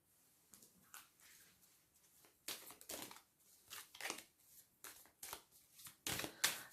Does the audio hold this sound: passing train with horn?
no